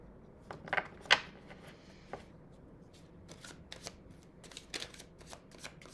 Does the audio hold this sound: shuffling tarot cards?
yes